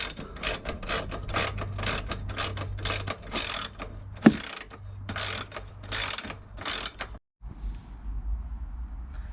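Rapid repeated ratcheting clicks in bursts, a wrench removing bolts from a van passenger seat close by, pausing briefly midway and then stopping, followed by a low mechanical hum.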